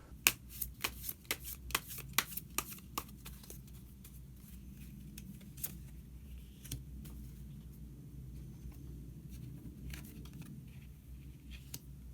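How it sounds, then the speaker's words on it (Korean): Tarot cards are shuffled and drawn by hand: a run of crisp, quick flicks and snaps at the start, settling into soft, steady riffling and sliding under quiet room tone, with no talking. "카드 한 장을 더 뽑고 이야기 계속 나오도록 하겠습니다."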